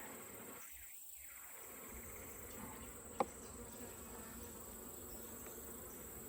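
Honeybees hum in a steady, soft drone inside a hive box from a nuc, with one short sharp knock partway through.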